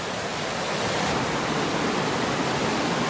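Big Cedar Creek flows steadily along its banks, a constant loud broadband rush of running water with no pauses.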